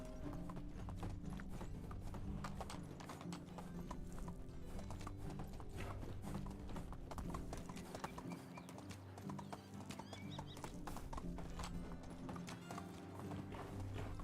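Horse hooves clip-clop steadily and close while riding in the game Medieval Dynasty, a continuous rhythmic trot with an occasional whinny over game ambience.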